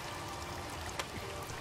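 In the survival video game The Forest, a waterfall inside a sinkhole cave gives off a constant, dense rushing roar of falling water, with a brief splashy spike partway through.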